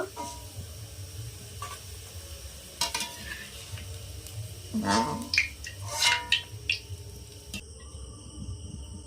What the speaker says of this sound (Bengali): পেঁয়াজ বেরেস্তা আমি ভেজে নিয়েছি, এবার আমি তুলে নেব।